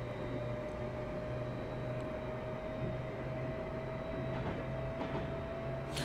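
A Class 350 electric train runs steadily in a train simulator game on the West Coast Main Line through the Trent Valley, giving a constant hum with a steady tone, heard alone and moderately loud throughout.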